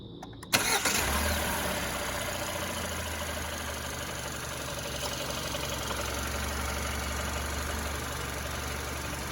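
A 2021 Kia K5 EX with an automatic transmission cranks briefly and fires up, then settles into a smooth, quiet, steady idle that runs for several seconds.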